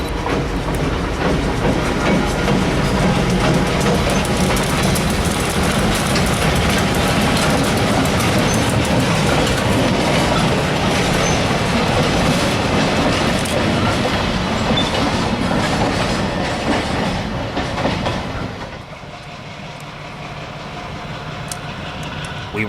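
St. Marys Railroad freight train led by GP15-1 locomotive 1547, a 1979 Conrail-built diesel, rolling past close by with steady loud wheel rumble and clickety-clack that drops away abruptly near the end, leaving quieter background noise.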